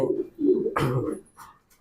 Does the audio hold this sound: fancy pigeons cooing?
yes